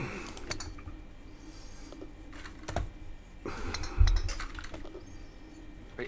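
Someone types on a computer keyboard while playing Golf It, with close, irregular bursts of clacking keys and a few heavier thumps, and no one speaking.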